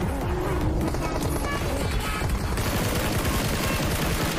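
Dense, rapid gunfire crackles without pause through a battle royale video game match, with overlapping bursts of shots that stay loud and close throughout.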